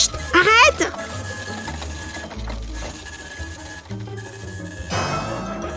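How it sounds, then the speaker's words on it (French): A printer running continuously, a mechanical whir and chatter with repeated clicking passes, heard alongside speaking voices. "Oh non, ça continue d'imprimer."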